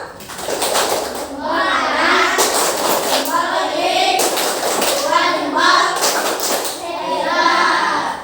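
A class of schoolchildren chants a rhythmic classroom clapping routine with their teacher, voices singing in unison while bursts of many small hands clapping recur every couple of seconds.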